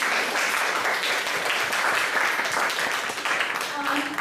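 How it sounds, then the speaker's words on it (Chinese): An audience at a museum decolonization workshop claps in a dense, steady round of applause lasting several seconds, fading slightly near the end, with faint voices underneath. "我们再鼓励鼓掌声"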